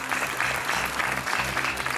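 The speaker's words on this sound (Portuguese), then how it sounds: "um aplauso para o Sérgio mais uma vez" Studio audience applause for a contestant on the Portuguese TV quiz show Joker, steady full clapping from a crowd that holds evenly for the whole short stretch.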